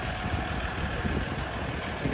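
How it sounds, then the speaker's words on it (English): A 2015 Jeep Grand Cherokee Summit's 3-liter EcoDiesel engine idles with a steady low rumble and broadband hum, close and constant with no talking. "this is our 3-liter Eco Diesel"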